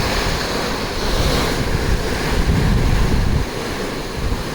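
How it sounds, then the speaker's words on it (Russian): Sea waves slap and wash against a ship's hull at the bow in steady, loud surges, with wind noise rushing over the microphone throughout. "Тут волна бьется о корпус судна"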